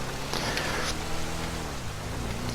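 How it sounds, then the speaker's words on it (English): Steady rain in GTA Online hisses as a constant wash of noise, with a low vehicle engine hum running beneath it for the brief stretch. "Well, it's raining."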